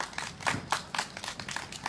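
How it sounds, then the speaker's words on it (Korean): A small audience at a candlelight rally claps briefly, a sparse, uneven patter of individual claps at moderate distance. "뜨거운 박수 부탁드리겠습니다"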